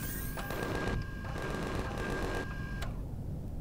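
Turrets fire in the space survival game Empyrion: Galactic Survival, letting off rapid bursts of automatic gunfire that rattle loudly for about two and a half seconds, then stop abruptly.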